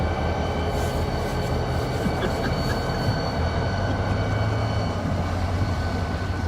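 A freight train hauling shipping containers rolls past, its steady low rumble and rail noise continuous and fairly close throughout, with no talking.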